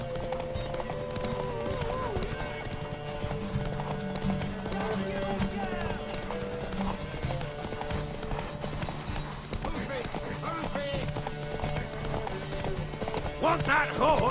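Galloping hooves pound in a rapid rhythm during a horse race in The Witcher 3, with occasional whinnies and continuous talking layered over the thundering gallop.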